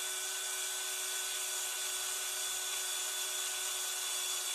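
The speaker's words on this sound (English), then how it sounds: "So you just got to literally get your drill and drill into it, yeah, nice and steady" A handheld electric drill boring steadily into a lead fishing weight to make a backlead, a constant high whining buzz with strong tonal harmonics, close and unbroken, no talking.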